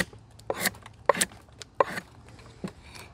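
A drawknife skewing and slicing across a wood workpiece, four crisp scraping cuts at a steady pace, close and distinct against a quiet background.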